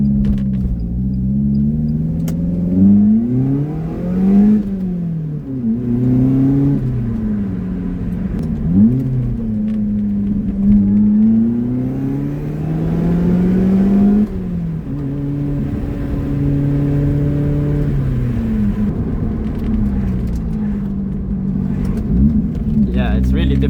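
A small Lotus Elise sports car climbs a narrow mountain road, its engine rumbling close and loud with repeated rises and falls in revs through gear changes, while the driver talks over it.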